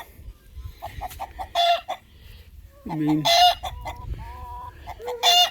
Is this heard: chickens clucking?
yes